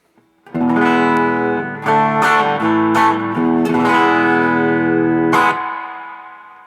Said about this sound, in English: I'm playing a Tele into a 1965 Deluxe Reverb